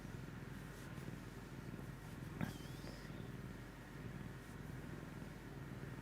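A pet cat purrs in a continuous low rumble close to a microphone. One brief sharp higher sound cuts in partway through, and no one speaks.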